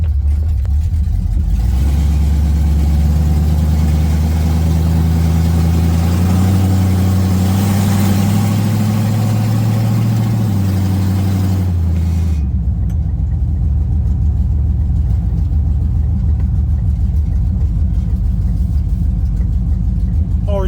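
A 1979 Trans Am's engine rumbles loudly on a test drive, a deep, steady drone that rises in pitch as it pulls and then drops away sharply about two-thirds of the way through.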